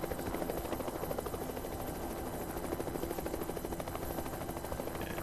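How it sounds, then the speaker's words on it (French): A helicopter in the zombie survival game Project Zomboid flies overhead, its rotor chop a steady, continuous thrum that stays fairly faint and even throughout. "Si l'hélico là, il pouvait se barrer."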